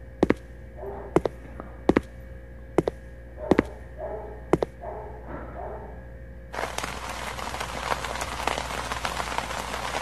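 Rain falls in the horror video game O Palhaço Me Matou (clown phobia). A few sharp isolated thumps come first, then a steady, dense hiss of rainfall takes over for the final few seconds.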